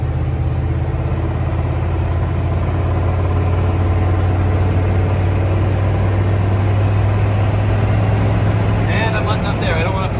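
Ford diesel engine pulling under 5 pounds of boost in fourth gear at about 53 mph, a steady low droning engine hum with road noise that holds constant and loud throughout.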